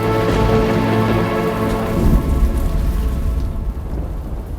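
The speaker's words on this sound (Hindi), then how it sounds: "प्रतीत हो रहा है तीव्र वर्षा आने वाली है" Heavy rain pours steadily and loudly while a low thunder rumble rolls through the middle, then the downpour eases slightly toward the end.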